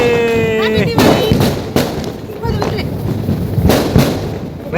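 Diwali firecrackers burst in a series of sharp, loud booms, about four main blasts spread unevenly over a few seconds, with people talking in the background.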